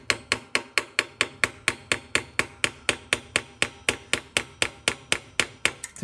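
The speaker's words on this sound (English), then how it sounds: "sometimes I'll take a hammer and a screwdriver and I'll just kind of gently tap" Steady series of about twenty-two sharp metallic taps from a hammer striking a screwdriver against a snap ring on a TH350C transmission valve body, evenly spaced and close, with no talk.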